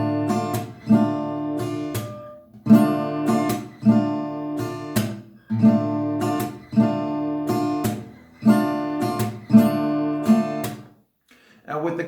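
Acoustic guitar strums a song at standard tempo in repeating bursts of bright strummed chords, each phrase roughly two seconds long, played alone and close with a short pause near the end.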